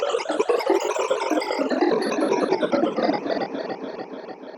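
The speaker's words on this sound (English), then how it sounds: "let's add the Valhalla Delay and see what we can do with it. So for this one, I'm going to choose the ghost algorithm." A psytrance synth line processed through Valhalla Delay's ghost algorithm, a dense, bright stream of rapid repeating notes smeared into a shimmering wash that slowly thins toward the end, loud and without voices.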